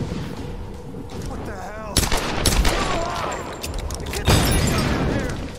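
Gunfire and explosive booms from the video game Tomb Raider, with sharp loud bursts at about two and four seconds over a dense game soundtrack. Someone speaks over the action.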